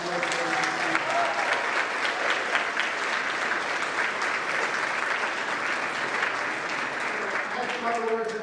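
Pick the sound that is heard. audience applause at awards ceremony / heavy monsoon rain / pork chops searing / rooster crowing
audience applause at awards ceremony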